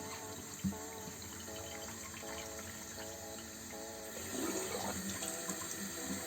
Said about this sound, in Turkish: Bakın normal temiz suyumuz geliyor artık